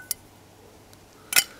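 Fire Maple folding camping cookware being packed away: two short metallic clinks, a light tap at first and then a louder double clatter of pans near the end, with quiet room tone between.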